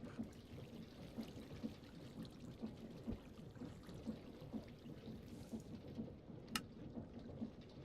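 Steady rain in Minecraft falls throughout, a dense continuous patter with low rumbling texture and a brief bright crackle near the end, no talking.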